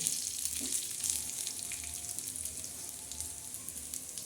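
Black masala of coconut, garlic and whole spices dry-roasting in a pan, a steady close crackling hiss with faint scrapes and no talking.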